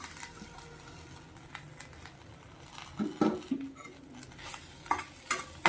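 Idly mixture with mint and coriander being stirred by hand in a bowl produces quiet scraping and light clinks, growing busier and louder in the second half.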